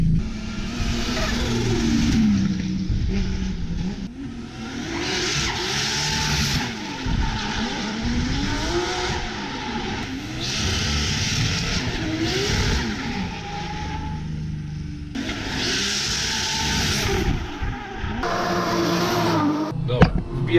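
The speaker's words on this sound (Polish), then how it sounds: "O, tu se driftują. Ja tutaj siedzę, a tam dalej driftują." Drifting cars circle the track at Ebisu circuit in Japan, engines revving up and down in repeated swooping waves with occasional tyre noise, steady and fairly loud throughout, with a person talking over them.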